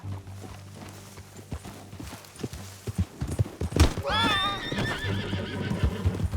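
In the Red Dead Redemption 2 western game, a horse's hooves clip-clop nearby in an uneven walking rhythm, then a loud, shaky neigh rings out as the hoofbeats continue.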